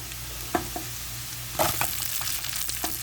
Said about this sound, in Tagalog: drizzle 2 tablespoons of olive oil, a tablespoon of grated garlic or grated garlic and ginger